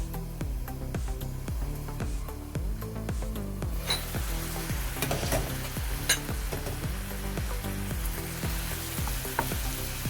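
Meat sizzles and fries in a pan for chicken menudo, a steady crackling hiss with repeated scraping and stirring strokes against the pan throughout.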